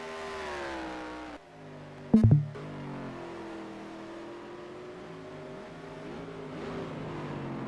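Race car engines at Brands Hatch, including a BMW, droning steadily with rising and falling revs, a sharp loud burst near the middle as cars pass close by.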